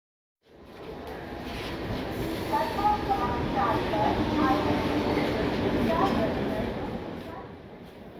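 A train at a railway station gives a steady, broad rumble that starts abruptly and holds loud for several seconds before easing off near the end.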